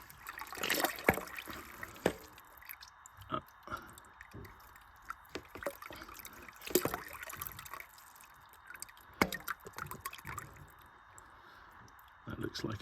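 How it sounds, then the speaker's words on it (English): Inside an abandoned house in France, water drips and trickles in an irregular patter of small splashes over a quiet background, with some voice sounds in places. "water dripping through."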